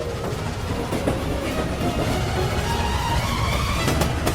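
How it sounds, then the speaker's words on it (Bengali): A train rolls past close by with loud, steady clickety-clack of wheels on rails and a continuous rumbling roar, heard alone without talk. "নোলান, ট্রেনটাকে পাঠাও। ট্রেন আসছে।"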